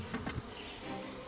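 Honey bees at a hive drone in a dense, continuous buzz, close and steady throughout the short moment.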